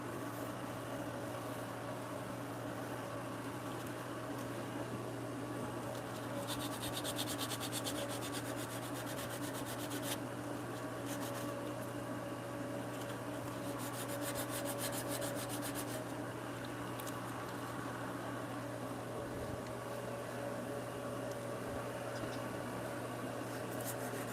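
Hand sanding of wood for a bunk bed in a home workshop gives a quiet rubbing scrape, with brighter bursts of stroking over a constant low mechanical hum.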